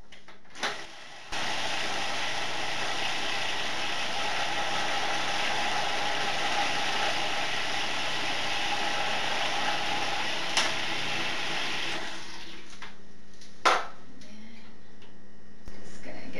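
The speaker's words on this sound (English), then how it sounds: "and then you just put it in your food processor." A food processor blends fresh basil leaves for pesto with a loud, steady motor whir lasting over ten seconds, with a couple of sharp clicks near the end as it stops.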